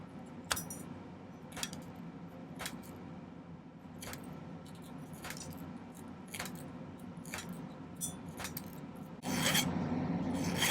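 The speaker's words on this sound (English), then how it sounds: "Then we can just trim it off as close as we can get and then file it smooth." Hand file rasping over silver solder at the base of a silver bezel on a turquoise cuff, a steady series of short scraping strokes close up, with a louder burst of rubbing near the end.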